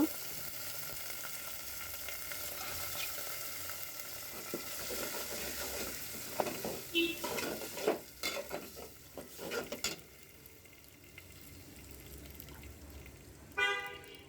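Lentils are added to browned frying onions and sizzle in a pan as a utensil scrapes and stirs, with clattering bursts midway and a distant car horn near the end.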